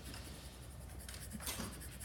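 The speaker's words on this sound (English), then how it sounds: "just barely touching my paper with my pencil" Colored pencil held on its side, lightly shading on paper with a soft continuous scratchy rasp, close and quiet, moving side to side.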